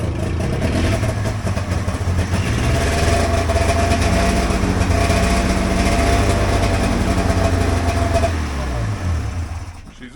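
A vintage Polaris Indy 500 Classic snowmobile's two-stroke engine runs steadily, a loud buzzing drone with a wavering pitch close by, easing off just before the end.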